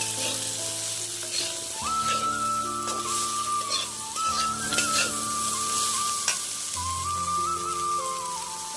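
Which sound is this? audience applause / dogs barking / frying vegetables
frying vegetables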